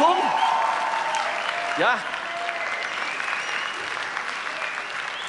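Audience applause at a live ZDF Wetten, dass..? broadcast in Linz, steady broadband clapping throughout, with a brief spoken word and a short tonal call near the start.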